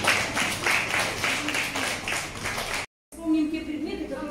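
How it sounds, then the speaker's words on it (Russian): Schoolchildren applaud in a primary classroom, a steady dense clapping that runs almost three seconds before a sudden cut, after which a voice speaks over a quieter room. "Встречаем единицу. Аплодисменты."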